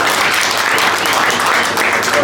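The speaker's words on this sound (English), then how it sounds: "Karim Shatana, ladies and gents, round of applause" Applause for a boxer at a Golden Gloves press conference, a dense continuous round of clapping from a room full of people, loud and steady throughout.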